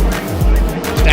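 Race cars locked in a four-car battle for second through fifth on a racing track, their engines roaring loudly with rising and falling pitch as they pass close by, with faint tire noise.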